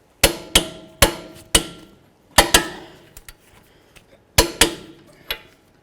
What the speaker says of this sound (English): Let's torque these to 166 foot-pounds.